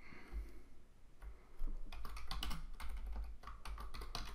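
Rapid clicking of computer keyboard keys while code is typed, dense irregular taps that grow busier after a short pause, close and quiet with no voices.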